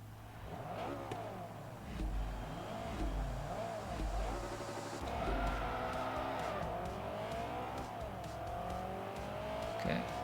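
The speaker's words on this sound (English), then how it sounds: "there goes the Corvette" A Corvette race car in Forza Motorsport 3, its engine rising and falling through repeated revving gear changes with tire noise, loud and continuous as it passes, with talk underneath.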